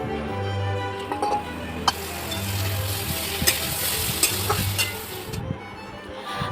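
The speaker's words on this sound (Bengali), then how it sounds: "এদিকে পেঁয়াজ লঙ্কাটা ভেজে নিচ্ছি" Onion and chili frying in a pan, a continuous close sizzle with a low hum under it and occasional sharp clicks and scrapes from stirring.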